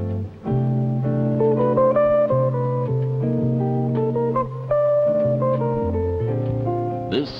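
Jazz guitar from a guitarist's first album, recorded in 1968: a steady stream of clear, sustained notes and chords played close and fairly loud, continuous through the whole stretch with a small flourish near the end, no voices.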